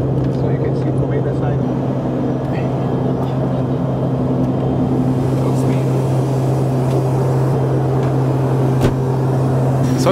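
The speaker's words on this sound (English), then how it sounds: "Very loud here in the back of the Embraer" Loud, steady cabin roar at the back of an Embraer airliner in flight, a constant deep drone with a tonal hum that stays even throughout.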